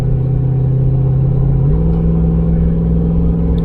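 A steady, loud low drone from an old truck engine cruising in high gear, a constant rumble with a slight shift in pitch partway through, close and continuous with no talking.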